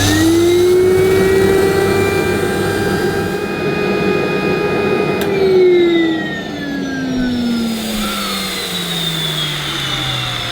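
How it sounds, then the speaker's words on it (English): A Filter Queen Majestic Triple Crown vacuum cleaner, an 800 watt machine, runs loudly and continuously during a suction test, its whine gliding down in pitch partway through and then settling lower, with no talk. "we'll just quickly measure the suction of this filter queen"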